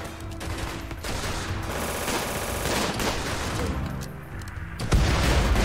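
Enemy gunfire in the video game Rimworld, sustained rapid bursts of shots crackling together in a loud, busy fusillade with a heavier impact near the end.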